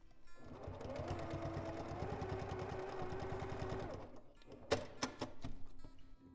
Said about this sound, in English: And we're just going to baste or sew it together.